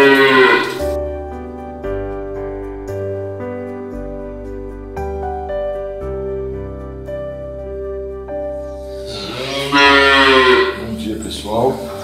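A dairy cow that calved the previous day and has a retained placenta lets out long, loud, low moos, one after another, close by and continuing through the whole stretch.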